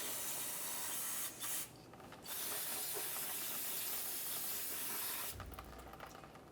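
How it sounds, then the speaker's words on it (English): Parts cleaner sprayed from an aerosol can onto the axle area of a 2006-2011 Honda Civic during a CV axle replacement, heard as a long steady hiss with a brief pause, then a short final burst and a thud. "We'll use some parts cleaner for this."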